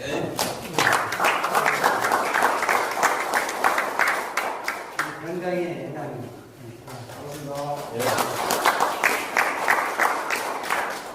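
An audience applauds at a tax accountants' academic conference in Daejeon. Loud, sustained clapping fills the room, pauses briefly while a voice speaks, then swells again.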